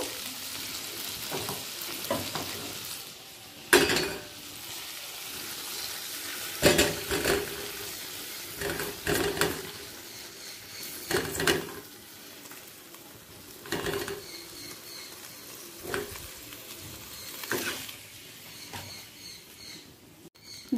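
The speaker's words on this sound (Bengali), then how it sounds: "ভাজতে ভাজতে সেদ্ধটা করে নেব।" Potatoes and pointed gourd frying in oil for a Bengali dalna, a soft steady sizzle with occasional sharp stirring scrapes and clanks of a utensil in the pan, close and without talk.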